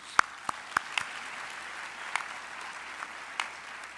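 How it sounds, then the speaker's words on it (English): Scattered applause at a university graduation ceremony, a few sharp individual claps standing out over a soft, diffuse wash of clapping from a small audience. "we should give them a hand of applause"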